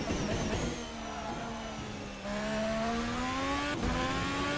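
A race car in a video game at the Bahrain circuit accelerates out of a corner, its engine note climbing steadily in pitch with a brief dip as it shifts gear, a continuous moderate whine.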